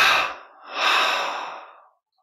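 Two deep breaths during a guided relaxation meditation: a short airy inhale, a brief pause, then a longer, fuller breath that trails off into silence, close and soft.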